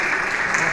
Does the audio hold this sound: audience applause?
yes